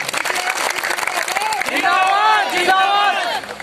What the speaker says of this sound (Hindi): इस बात पर ताली बजाओ।